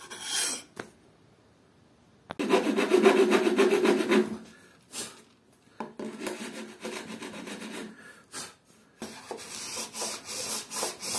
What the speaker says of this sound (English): Maybe I will grind this part a little bit more.